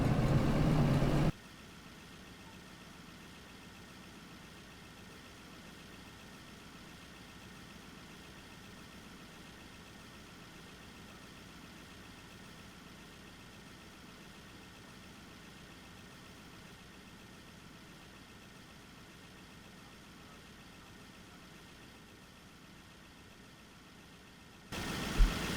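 Steady low locomotive engine drone from Derail Valley, running at throttle on the line, faint and unchanging for a long stretch with louder noise at the edges.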